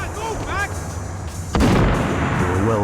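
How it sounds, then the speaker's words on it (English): Gunfire in the Max Payne 3 video game, with long-range shots from professional attackers: a sharp loud report about midway cuts in over a steady background din, with some voice-like sound earlier. "Bullets came from long range."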